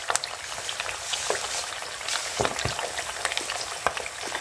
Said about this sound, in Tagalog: itlog naman yung aking pinipiprito